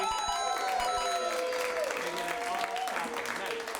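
An audience applauds for a tech booth crew member at a live show, steady massed clapping under a voice talking over a sustained musical tone.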